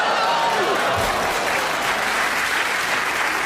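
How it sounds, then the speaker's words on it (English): A studio audience at a radio panel show applauds steadily, a dense, even clapping that carries at the same level for the whole stretch with no talk over it. "that applause was for what you said, Gyles."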